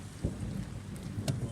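Thunder rumbles low during a big thunderstorm over a house, with steady rain pattering throughout and a couple of sharper cracks, heard alone without talk.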